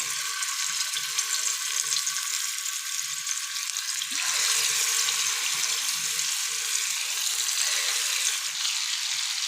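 Marinated chicken pieces frying in about half a cup of oil on a flat tawa, giving a continuous bright sizzle that grows fuller partway through, steady and close with no talk.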